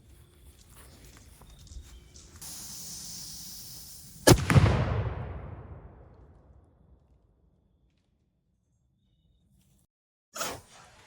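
An air rifle fires a large domed diabolo pellet into ballistics gel outdoors: a sharp loud crack with a trailing rumble that fades into quiet, followed by a second short burst several seconds later.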